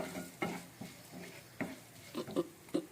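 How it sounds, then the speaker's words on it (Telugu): Tempering seeds fry softly in a pan with lightly browned onions while a spoon stirs them, giving faint sizzling and a few scattered scraping taps. "ఇప్పుడు ఈ పోపు గింజలు కూడా వేద్దాము."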